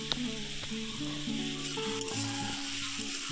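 Spices, salt, turmeric and Kashmiri chilli powder fry and get stirred in a pan for a tomato and bata fish curry, a steady close sizzle running beneath prominent tonal music.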